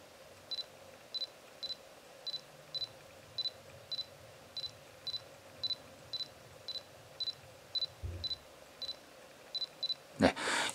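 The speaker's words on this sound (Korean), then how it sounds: "캐논 RF24-240mm 렌즈 부착능을 간단히 살펴보도록 하겠습니다" Canon RF24-240mm F4-6.3 IS USM zoom lens at 24mm autofocusing back and forth between close focus and about 1.5 to 3 metres, giving a steady series of faint, evenly spaced short whirs, alone in a quiet room, with a brief louder knock near the end.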